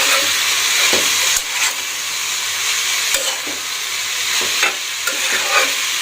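Green chilies and sliced bitter gourd fry in a pan with a loud, steady, close sizzle, broken by a few soft scrapes as they are stirred.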